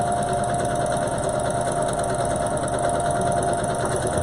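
A sewing machine runs steadily while stitching the edges of a cloth face mask closed, giving a continuous close motor whir with a rapid needle rhythm and no talking.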